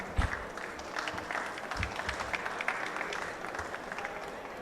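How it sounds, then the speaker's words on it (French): Applause from a conference audience closing a round-table discussion on smart territories, a steady wash of many hands clapping at moderate distance with a few sharper claps standing out. "Je vous invite à applaudir et à remercier nos intervenants"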